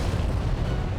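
A continuous deep, rumbling roar with a dense low-end boom, loud and steady throughout, like a volcanic eruption blasting nearby.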